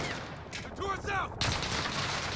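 Enemy machine guns fire in a Call of Duty: Modern Warfare battle, with bursts and rattling shots mixed with whooshing effects and a sharper volley near the end, moderately loud.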